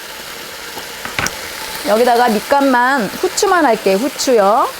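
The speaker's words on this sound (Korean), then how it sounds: "자, 지직 소리 나죠?" Pork neck steak sizzling in a hot frying pan, a steady crackling hiss that runs throughout while a person talks over it close by.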